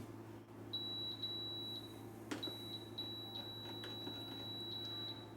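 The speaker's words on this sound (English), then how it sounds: "let's get R2D2 beeping" A high electronic R2-D2 toy droid beeps in long steady tones broken by short chirps, fairly faint over a low background hum.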